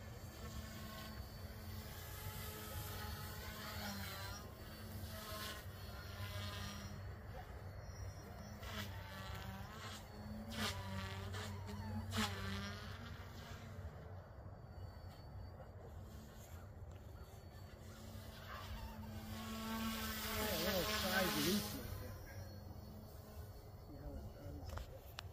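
A Goosky S1 RC helicopter flies acrobatic stunts such as tail-forward loops, its rotor whine rising and falling with each maneuver and swelling louder for a moment near the end, over a low steady drone. No one speaks.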